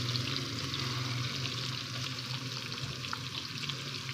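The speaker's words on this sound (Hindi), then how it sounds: "चिकन को अच्छे तरीके से हम कोरमे के लिए फ्राई करेंगे" Chicken fries in ghee in a pan for a degi-style chicken korma, giving a steady, dense, close sizzle with faint stirring scrapes and no talk.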